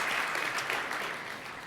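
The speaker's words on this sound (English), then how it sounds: "Can we give her a round of applause," Steady applause from an audience at a blockchain conference keynote, a dense wash of clapping that holds at an even level for the whole moment before easing slightly.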